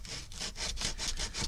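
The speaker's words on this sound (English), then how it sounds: "Just keep sanding. It's going to come off." Sandpaper scrubs back and forth over a wooden Dollar Tree tray, removing paper from its surface in six or seven quick, rhythmic rasping strokes, close and clear with no talk.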